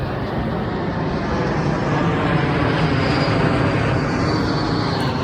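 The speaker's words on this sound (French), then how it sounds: "Regardez l'avion." An airplane passes overhead outdoors, its engine roar a loud, steady broadband rumble that fills the whole stretch without letting up.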